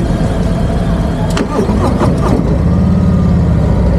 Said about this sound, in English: Wow, that's a car engine, absolutely a car engine.